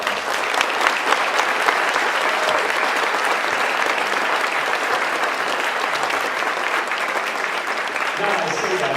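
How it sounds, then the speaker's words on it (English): Sustained applause from an audience honoring seniors at a high school spring band concert, steady dense clapping filling the whole stretch without a break, loud and close. "Please give those seniors a round of applause."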